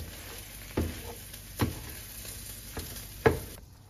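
Sausage fries in a pan with a low constant sizzle, broken by four sharp scraping stirs spaced about a second apart, close and moderately quiet.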